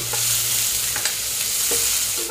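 Spices and onion sizzle in hot oil for tempering, with fenugreek, cumin, mustard seeds and dried red chilli in the pan: a steady, close hiss with a few soft stirring scrapes.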